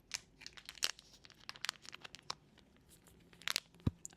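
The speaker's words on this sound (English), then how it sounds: "It should not require this much strength to open a pack of wipes, actually." Plastic packaging crinkles and tears in a series of sharp, close bursts, with irregular pauses between the rips and crumples.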